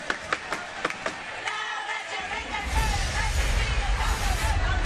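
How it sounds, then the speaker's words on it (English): Arena crowd at a men's basketball grand final swelling in noise, a few sharp claps and thuds early, then a dense, loud roar of cheering and babble building and holding steady. "Crowd getting loud"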